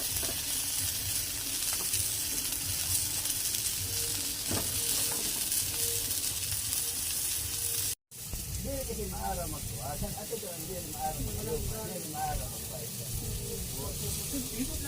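Fish grills outdoors over heat with a loud, continuous sizzle and hiss that lasts throughout, close by, while people talk over it.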